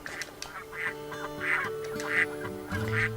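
Ducks in the video game Baten Kaitos quack in a steady series of five or six nasal calls, clear and moderately loud over a soft musical background.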